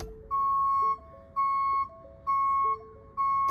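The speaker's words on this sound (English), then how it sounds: "Generally assume you're going to have a backup alarm." A truck's backup alarm on a 2019 Ford F-150 welding rig gives four steady, evenly spaced electronic beeps, loud and close, with nothing else around.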